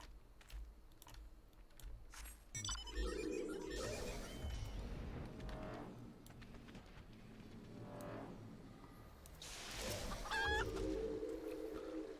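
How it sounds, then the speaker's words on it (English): A chicken clucks in the Final Fantasy XIV video game, heard against a busy game soundscape with clicks and ambient effects, the clucks rising in short bursts at moderate loudness. "Is that a motherfucking chicken?"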